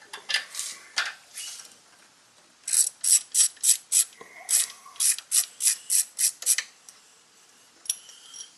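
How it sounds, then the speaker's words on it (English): A ratchet cracks loose a 12 mm bolt on the carburetor of a 1987–99 Yamaha Virago, with a few slow clicks followed by a quick run of bright, evenly spaced ratcheting clicks, close up with no talk. "There's a 12 millimeter bolt right here. So just go ahead and give that a crack loose."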